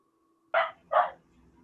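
A dog gives two short, close barks about a third of a second apart, with near silence around them.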